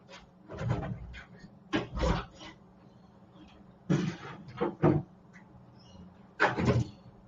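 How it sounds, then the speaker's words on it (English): Wooden cupboard or door handled indoors, several loud knocks, clunks and rattles arriving in irregular bursts with quiet pauses between. "Let me open the door."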